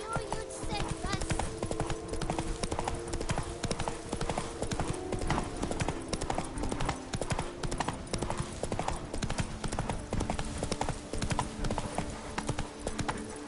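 Steady rhythmic clip-clop of Roach's hooves in The Witcher game, a continuous close hoofbeat pattern running throughout with voices talking over it and a brief whinny-like tone.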